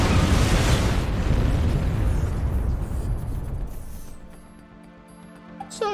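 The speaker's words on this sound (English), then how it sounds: "A missile, bro." A missile blast in Metal Gear Solid 2, a loud, broad roaring explosion that rumbles for several seconds before dying away into quieter game tones.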